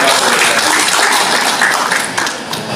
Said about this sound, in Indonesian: Aplaus untuk